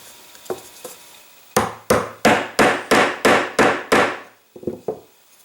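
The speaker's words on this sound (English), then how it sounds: "I'll be able to tap in the blind nuts for the 40 screws" Blind nuts are hammered into drilled wood: a few light taps, then a steady run of about eight loud, evenly spaced strikes, followed by a couple of softer taps, close and alone.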